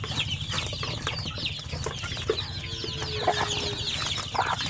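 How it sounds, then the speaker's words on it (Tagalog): Aseel breed chickens in a breeder's flock clucking and chattering nearby, overlapping calls over a steady low hum, no voices. "So ito po yung mga asel ng mga breeder natin"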